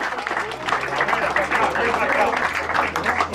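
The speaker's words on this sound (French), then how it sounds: "On peut l'applaudir." Crowd applause rolls steadily for a regional champion cyclist at the Tour de Côte d'Or, a dense, even patter of clapping with a voice talking over it.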